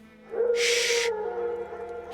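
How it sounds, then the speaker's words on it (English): Wild dogs howling in the forest in The Witcher 3: Wild Hunt, a loud, sustained, wavering tonal howl that swells in and carries on for about two seconds, with a burst of high, hissing noise over its start. "Wolves? No. Wild dogs."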